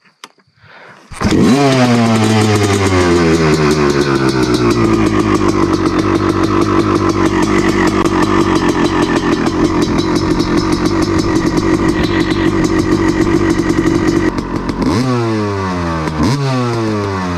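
A motocross bike's engine fires up and idles steadily for a warm-up, a loud close harmonic drone that holds for over ten seconds, then dips and rises again as the throttle is blipped near the end; no one speaks.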